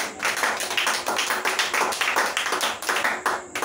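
Church congregation clapping in steady, rhythmic unison through a service, a dense run of hand claps close and loud, with no talk over it.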